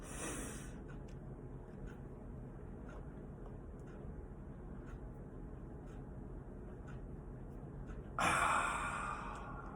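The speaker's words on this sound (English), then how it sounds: "I take a deep breath." A deep breath taken, held, then let out during a shoulder stretching routine: a brief inhale at the start, a long quiet stretch of held breath, then a louder, breathy exhale near the end, with no talk.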